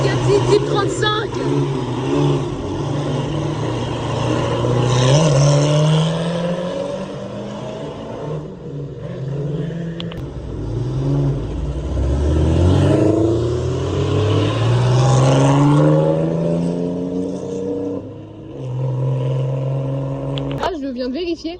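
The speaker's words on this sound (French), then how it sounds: "Bugatti Type 35." A vintage Bugatti Type 35 engine drones and revs through a long stretch at a mountain rally in the French Alps, its pitch climbing and falling steadily while someone speaks loudly over it.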